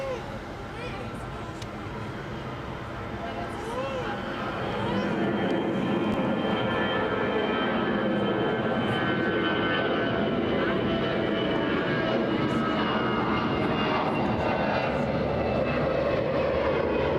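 A CityJet jet operating for Lufthansa at Cologne Bonn Airport roars at a distance, its engine noise swelling and holding steady as a broad, continuous rumble with a whine above, while people talk over it.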